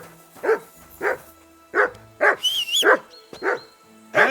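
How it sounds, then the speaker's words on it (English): Insistent barking from a dog in Kingdom Come Deliverance 2, medieval Bohemia: seven or so loud, close barks in quick succession, with a brief whistle-like tone sounding between them midway. "Whistle at that mutt of yours to stop barking!"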